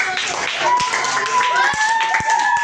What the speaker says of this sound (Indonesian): Tepuk tangan dulu Pak kelompoknya